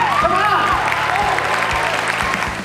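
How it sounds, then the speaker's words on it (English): Loud, dense applause fills a hall at a leadership summit as the crowd claps for itself, with a speaking voice over the clapping and a few cheers mixed in. "Give yourselves a round of applause for being here."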